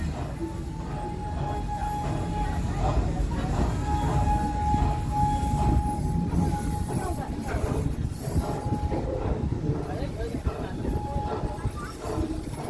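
Riding the Serengeti Express train at Busch Gardens Tampa: continuous rumble and clatter of rail cars rolling along the track, with a faint thin wheel squeal recurring, and a narrator's voice speaking over the ride.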